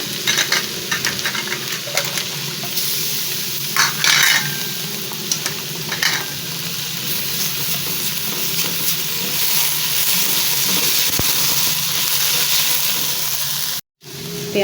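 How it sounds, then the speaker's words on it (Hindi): Garlic fries in a pan beside softened onion pushed to one side, a steady loud sizzle with stirring and scraping running throughout, for a chicken cheese potato dish. "अब इसको साइड पे करके हम लहसुन को भी भून लेते हैं।"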